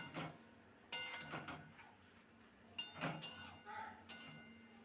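Metal lid clinks set down onto a pan of spinach and mixed vegetables cooking in a home kitchen, a few sharp clatters near and loud against soft background noise.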